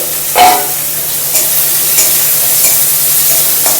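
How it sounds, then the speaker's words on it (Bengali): Onion frying in a pan until it reddens, a steady close sizzle with a few stirring scrapes, the loudest near the start. "এই পেঁয়াজটাকে একটু লাল লাল করে ভাজতে হবে"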